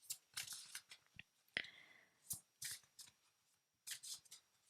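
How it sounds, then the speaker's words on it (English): Tarot cards being shuffled by hand nearby, a series of soft, irregular riffling and flicking bursts with brief pauses between them, quiet and close. "we will first take some tarot cards actually that I'm shuffling"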